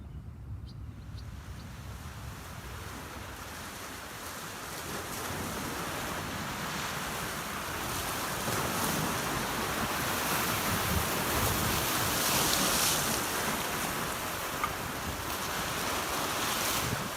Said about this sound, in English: Lake Michigan provides Chicago with personality and a great wall of sound.